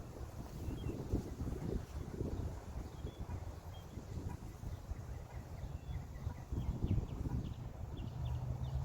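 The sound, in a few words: wind blowing on a disc golf course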